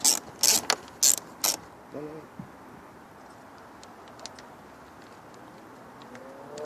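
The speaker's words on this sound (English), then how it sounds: "with the same 10mm socket, we're going to remove the 2 bolts to the top of the airbox" A 10mm socket ratchet backs out the top airbox bolts on a 2002-2006 Lexus ES300/ES330 or Toyota Camry, giving four sharp, close metallic bursts of clicking in the first second and a half, followed by quieter handling noises.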